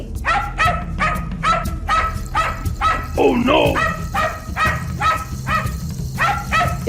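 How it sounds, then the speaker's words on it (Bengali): Cartoon dog barking repeatedly in a fast, loud, evenly spaced series of barks, with a brief yelping whine in the middle, over a steady background bed and a short spoken exclamation. "অমনি কুকুর চিৎকার করতে থাকে"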